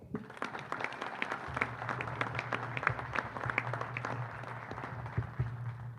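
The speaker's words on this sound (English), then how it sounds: "Big round of applause for our next speaker" Audience at a Florida State football press conference applauds for the next speaker, a dense, steady wash of many hands clapping at moderate distance, with a low hum running underneath through most of it.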